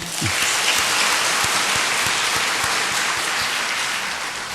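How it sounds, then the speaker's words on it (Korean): A church congregation breaks into sustained applause of encouragement after a rousing praise performance, dense, steady clapping filling the room for several seconds, loud and close. "우리 격려의 박수 한번 할까요?"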